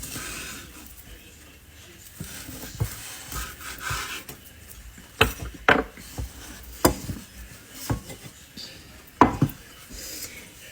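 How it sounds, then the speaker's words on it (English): A knife slices cube steak into strips on a board in a home kitchen, giving a series of sharp cutting taps and knocks at irregular intervals, moderately close over a quiet background. "I'm going to cut these in strips, about 3 strips per steak."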